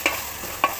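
Prawns fry with brinjal, drumstick and potato in a pan seasoned with chili powder, turmeric and salt, a soft steady sizzle with two quick stirring scrapes, close by.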